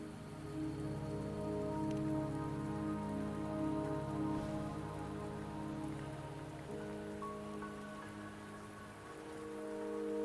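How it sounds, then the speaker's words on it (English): Rain falling in the video game Wuthering Waves, a soft continuous patter over a sustained low musical drone, with no talking. "Don't worry, the rain won't last much longer."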